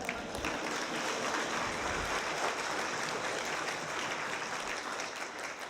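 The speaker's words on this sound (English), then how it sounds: "Let's give them another round of applause" Another round of applause from the audience at a conference plenary welcome session, a sustained, even roar of many hands clapping together that carries on without talk.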